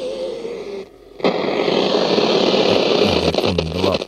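A Sony Skysensor ICF-5900 analog radio hisses with loud static and noisy broadcast sound after a brief dip, with warbling tones and tuning whistles sliding in and out as the dial is adjusted.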